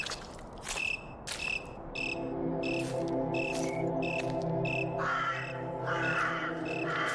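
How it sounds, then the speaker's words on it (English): Crickets chirp steadily and loudly through a forest night scene in a horror video game, with repeated bright chirp pulses layered over a constant insect drone and occasional crow-like calls. "Some of the cricket noises are a bit loud"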